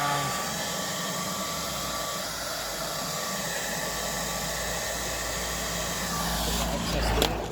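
A heat gun blows a steady, loud hiss of hot air while warming vinyl wrap on a car's rusty rear quarter panel. The continuous rush runs unbroken, swelling slightly near the end.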